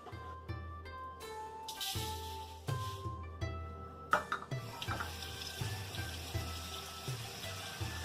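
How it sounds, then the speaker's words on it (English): Rice rinsed under a running kitchen tap, with a quiet, steady stream of water splashing into a bowl, broken by light knocks and swishes as the grains are stirred, and no talking. "Rinse your rice until the water runs clear."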